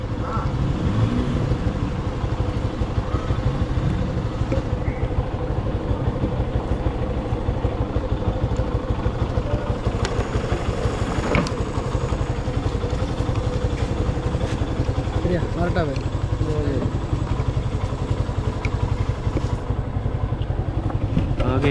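A motorcycle rides along a road at the start of a trip, its engine a steady close drone with clattering and wind rumble throughout, and faint voices partly covered by the noise.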